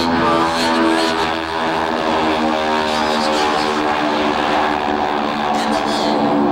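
Red Baron Pizza Squadron warbird propeller planes fly past at the Tico Warbird Airshow in 2006, making a loud, continuous, throbbing engine drone that holds steady throughout.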